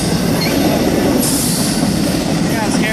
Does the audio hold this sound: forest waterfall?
no